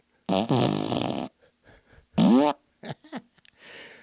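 A fart machine toy plays two loud, close farts, the first long and the second shorter, followed by a string of small sputters and a soft hissy trail, with no talk.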